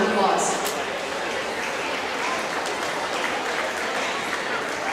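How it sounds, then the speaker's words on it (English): Audience applause at the Saunders County Fair livestock show arena, a steady wash of clapping from a crowd that holds at an even level throughout, with talk faintly mixed in. "Give the young man a big round of applause."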